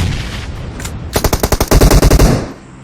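Rapid bursts of automatic gunfire in a competitive esports video game match, a string of sharp close shots accelerating into a dense volley that cuts off abruptly, with no talk over it.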